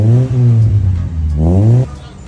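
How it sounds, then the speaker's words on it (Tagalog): A Toyota Corolla fitted with a new muffler revs loudly up close, its exhaust note rising and falling through two strong throttle blips before cutting back to idle. "ito, sound check na tayo ng ating muffler"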